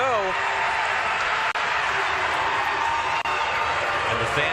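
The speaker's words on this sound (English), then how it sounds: "First noise we've heard from the home crowd in a while" A home crowd roars and cheers at a college basketball game in the College Insider Tournament. The sustained loud crowd noise carries on throughout, with a voice faintly mixed in.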